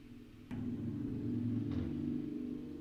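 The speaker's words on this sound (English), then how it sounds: "You don't even need a car that loud." A loud car engine rumbles at idle, then swells abruptly into a deeper, heavier drone that holds steady, close and unaccompanied by talk.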